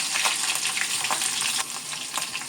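Green chillies frying in hot oil with mustard seeds, a loud close steady sizzle with crackling pops that eases slightly toward the end, with no talking.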